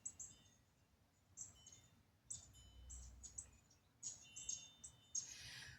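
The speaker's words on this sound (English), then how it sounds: "So it's a little bird somewhere chirping." A small bird chirps somewhere nearby in a quiet indoor room, giving thin, high, scattered tweets in short irregular bursts, fairly faint over a soft background hum, with no talking.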